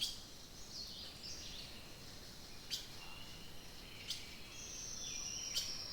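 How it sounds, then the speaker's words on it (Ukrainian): Faint birds sing and chirp in the distance, with brief high trills and calls over a quiet, hissy background. "Та це ж пташечки так красиво співають."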